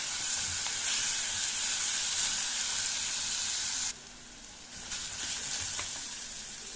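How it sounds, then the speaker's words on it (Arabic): Onions sautéing in a pan for stuffed pigeon with rice, a steady loud sizzle throughout that drops a little partway through and then carries on, with no talking. "ادي البصل، انا مش هحمره، انا هشوحه بس"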